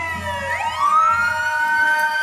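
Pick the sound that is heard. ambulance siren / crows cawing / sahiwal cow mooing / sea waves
ambulance siren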